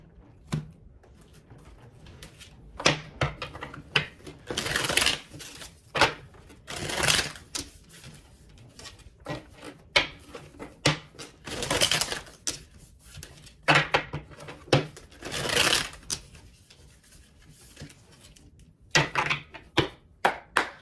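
Tarot cards shuffled by hand in a run of crisp, papery riffles and bursts that come and go over twenty seconds, close and fairly quiet, with brief pauses between the flurries.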